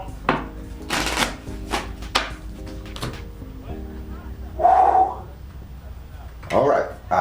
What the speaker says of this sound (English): I'll take the liberty of shuffling your cards.